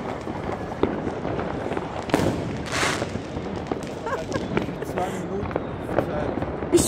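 New Year's Eve fireworks burst all around, with scattered sharp cracks and pops near and far and a brief hissing rocket, while people talk nearby.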